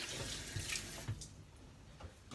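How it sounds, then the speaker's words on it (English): Running water from a kitchen tap splashes while hands are rinsed mid-way through making a crockpot low-carb meatloaf, a steady close hiss with a few brief splashy bursts and no talk. "Let me rinse my hands off."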